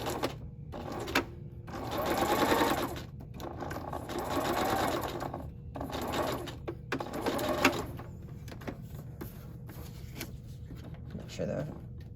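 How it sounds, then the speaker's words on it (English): A sewing machine runs a single straight row of stitching, back-stitching at the start and end, in several short motor bursts separated by pauses, with a voice talking in between. "Now we're gonna sew one row of stitching in the middle, start and end with a back stitch."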